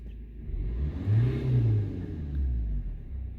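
A Suzuki Swift engine revs up from idle in a deep, rising roar, holds briefly, then eases back to a steady rumble, close and fairly loud.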